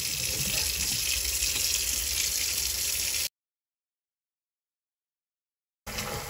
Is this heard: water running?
yes